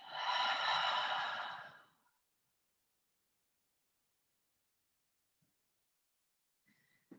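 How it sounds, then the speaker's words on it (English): One long, deep breath is pushed out through the mouth during a yoga session. The close, breathy whoosh lasts about two seconds and is followed by near silence. "Take an even deeper exhale through the mouth."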